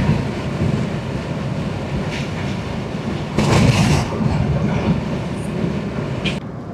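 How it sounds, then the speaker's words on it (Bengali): A freight train in Afghanistan rolls past, a continuous rumble of wagons with rhythmic clatter over the rails and some wind buffeting the microphone, moderately close with no voices. "এটা দেখা যায় একদম মালবাহী ট্রেন, উজবেকিস্তান থেকে মালামাল আসে"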